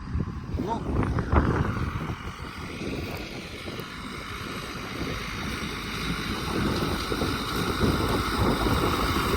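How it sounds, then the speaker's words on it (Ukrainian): Strong wind buffets the microphone with a constant low rumbling roar, gusting louder at times, while a voice is faintly heard beneath, in a wheat field beside an MTZ-892.2 tractor. "Може вітер трохи задувати, ну, прикриваю, бо вітер страшний"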